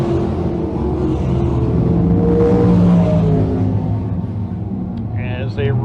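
Can-Am 602 crate sprint cars roaring off at a race start at a speedway, a dense layered engine rumble that swells and holds, with a commentator talking over it.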